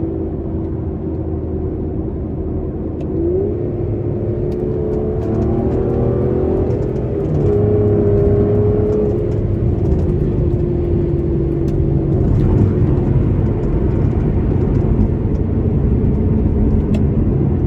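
A 2014 Aston Martin Vanquish engine rumbles steadily and loud throughout, its pitch rising and falling as it revs, with a continuous low drone underneath.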